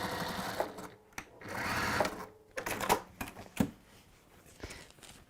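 A sewing machine stitches around the top of a textile piece, a close rapid whirring in a few bursts separated by short stops and handling clicks, with no voices.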